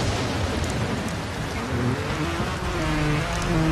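Steady rain and gusting wind sweep over a rocky motorbike track in Trials Evolution, a dense, loud, continuous hiss with no breaks and no voices.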